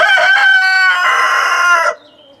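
Rooster crowing loud and close in a single long cock-a-doodle-doo ending in a drawn-out final note, with a chicken nearby before it breaks off into quiet.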